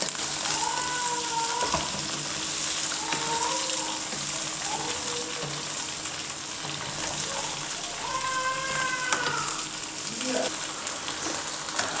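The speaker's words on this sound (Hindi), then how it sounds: "देखें भिंडी जो है ये फ्राई हो रही है।" Okra fries in hot oil in a pan, giving a steady close sizzle and crackle throughout, with faint whistling tones rising above it in places.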